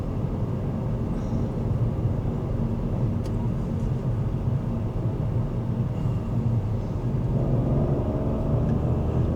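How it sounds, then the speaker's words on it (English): A diesel car engine rumbles low and steady from inside the moving vehicle on a seaside road near El Morche, Spain, with faint road noise and no talking. "Listen to the roar of that engine."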